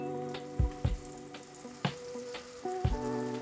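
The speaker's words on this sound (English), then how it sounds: "As that butter melts, we're gonna add our scallops." Scallops added to melted butter in a pan, with a soft sizzle under a steady hum and several sharp clinks and taps of utensils against the cookware.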